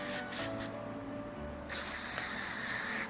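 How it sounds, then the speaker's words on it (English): Heat protectant spray misted onto hair, a short bursting hiss starting partway through and holding for over a second, close and fairly loud, after a few faint earlier puffs. "I am going to use this heat protectant spray on my hair"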